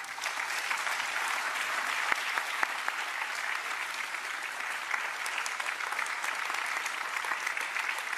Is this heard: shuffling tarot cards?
no